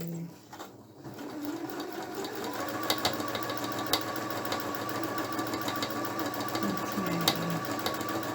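A sewing machine stitching: after a brief quiet start it settles into a continuous, even mechanical whir with rapid needle clatter and occasional sharper clicks, close and moderately loud.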